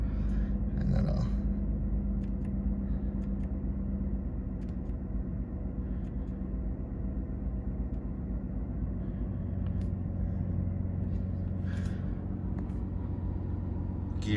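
Engine of a 2011 Aston Martin Rapide runs with a steady low rumble, heard from inside the car, with faint clicks near the start and end and no talking.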